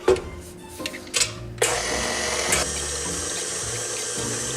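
A stand mixer fitted with a whisk attachment starts up and runs steadily on low, a close, continuous mechanical whir following a few clicks and clunks as it is switched on.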